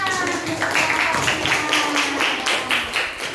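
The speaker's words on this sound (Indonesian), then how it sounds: "Kita beri tepuk tangan." Schoolchildren in a classroom clap together in a quick, rhythmic burst, close and fairly loud, with the beat holding steady for several seconds.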